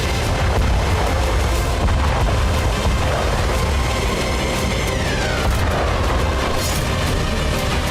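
A heavy, unbroken roar of blasts and rumble from a drone strike on an airbase fills the clip, with a faint whistling tone sliding downward midway.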